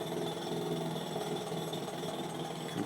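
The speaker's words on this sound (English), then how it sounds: "And they're out here jackhammering." A jackhammer at a construction site outside Martinez Commons at UC Berkeley, heard from indoors through a shut window as a continuous, fairly faint rapid mechanical rattle and drone with no pauses.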